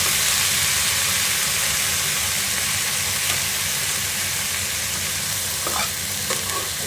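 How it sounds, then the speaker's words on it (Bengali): Mustard flowers, with prawns nearby in the recipe, fry lightly in a pan under a steady close hiss while a spatula stirs, a few sharper scrapes near the end; no voices. "বেশি ভাজবো না, জাস্ট একটুখানি নাড়াচাড়া করে"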